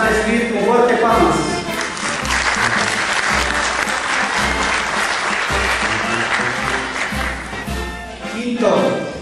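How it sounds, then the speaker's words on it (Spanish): Strong applause from a church congregation during a Quichua church ceremony, loud sustained clapping over about nine seconds, with music or a low rhythmic tone beneath and voices mixed in near the end. "Vamos a recibir con fuertes palmas"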